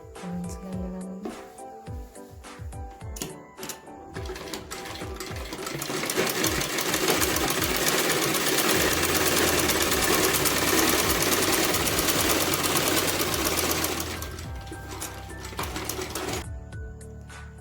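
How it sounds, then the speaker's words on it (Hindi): Sewing machine running in bursts, then one long steady stretch, as salwar fabric gets a double line of stitching; close and fairly loud, with no talking. "डबल सिलाई लगा देंगे।"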